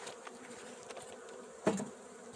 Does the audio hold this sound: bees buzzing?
yes